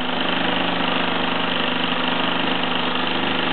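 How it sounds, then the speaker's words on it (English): Mamod SE1/2 steam engine driving a cast iron framed polisher; a steady, continuous mechanical whir and chuff with a fine rapid rhythm, close and moderately loud, running alone without talk. "As you can see, the little polisher goes at a fair old rate."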